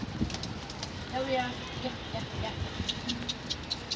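A young pigeon gives soft cooing calls, low and somewhat faint, surfacing between bursts of nearby talking on a hot day.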